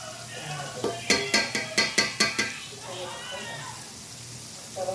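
Steady sizzling of chicken tenders frying in hot oil, with a short burst of quick scraping clicks as they're stirred; a voice speaks faintly at times.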